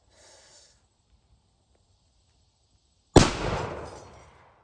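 A single loud gunshot from an M44 Mosin Nagant carbine, a sharp blast after quiet followed by a long decaying roar of echo, close and alone.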